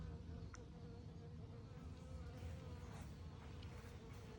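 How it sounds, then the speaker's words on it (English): A steady swarm of bees hums close by during beeswax rendering, a dense, continuous buzz with a few louder insects passing near the microphone. "I'm already getting bees"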